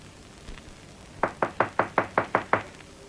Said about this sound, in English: Knock again. Louder.